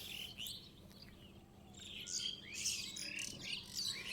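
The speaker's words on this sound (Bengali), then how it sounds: "এবং পাখির ডাকের কোলাহল কোনো কোনো জায়গায় ছড়িয়ে আছে।" Birds chirp and call over village rice paddy fields in the Aman season, with faint, scattered tweets and short squawks coming from some distance.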